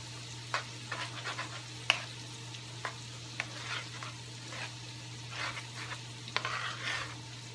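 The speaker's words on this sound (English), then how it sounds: "And you're just going to mix it in." A Cajun shrimp pasta mixture is stirred in a pot, giving scattered scraping and clinking strokes over a steady low hum, moderately close and fairly quiet, with no talking.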